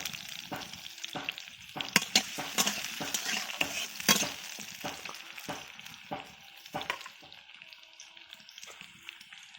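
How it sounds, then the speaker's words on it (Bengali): Papaya pieces crackle and sizzle in hot oil, with irregular sharp pops and scraping stirs over a low steady fry, close up. "পেঁপেগুলো আমার ভাজা হচ্ছে"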